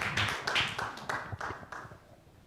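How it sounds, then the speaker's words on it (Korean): A small lecture-hall audience at a Korean public seminar claps to welcome a speaker: a brief scatter of uneven claps and taps that thins out and fades within a couple of seconds. "박수로 환영해 주십시오"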